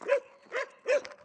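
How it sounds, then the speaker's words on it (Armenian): A dog barks three times in quick succession, short sharp yelping barks at moderate distance, evenly spaced with quiet gaps between. "դու ինչ ես հաչում"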